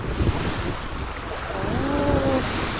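Ocean waves washing on the north coast, a steady broad roar with wind buffeting the microphone throughout, and a brief tonal hum drifting in the middle.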